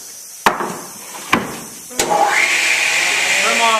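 A saw trims the cracked end off a wooden board for an end table, opening with three sharp knocks before the blade whines up into a loud, steady cutting whir up close.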